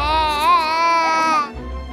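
A baby lets out a drawn-out, wavering open vowel, close and fairly loud, lasting over a second before trailing off.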